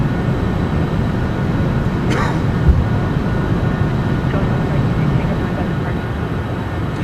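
Citation Sovereign+ business jet climbing out after takeoff in MSFS2024, a loud, steady broadband engine roar filling the cabin, with a brief faint chirp partway through.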